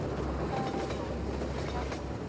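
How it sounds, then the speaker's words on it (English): A train rolls along in the video game Half-Life 2, a dense steady rumble with faint rhythmic clatter, loud and continuous throughout. "Right, so, here's the train."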